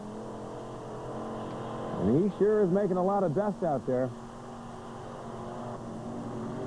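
A tractor-pull tractor with four engines hooked together roars up in a loud, rising rev that climbs in pitch over a couple of seconds and then cuts off. A commentator talks over the engines throughout.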